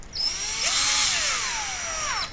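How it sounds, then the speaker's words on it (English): A handheld electric screwdriver drives a hex socket bolt, its motor whine rising in a strong, steady tone for about two seconds before stopping sharply; close and loud, with no talk. "one can use one of these electric screwdrivers very well, because with these hex sockets"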